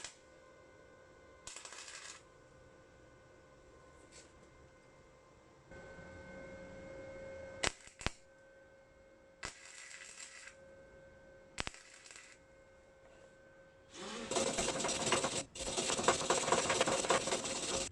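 A Harbor Freight 125 flux core welder tack welding a nut to a car fender, heard as several short crackling bursts of arc sizzle separated by pauses, ending in a longer, louder buzzing weld.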